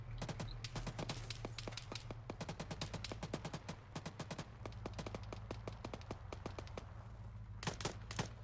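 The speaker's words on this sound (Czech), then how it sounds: "Střelba, a střelba, střelba, střelba" Rapid, continuous gunfire crackles through a firefight during building clearing, many sharp shots in irregular bursts, close and distinct over a low steady rumble, with a final flurry near the end.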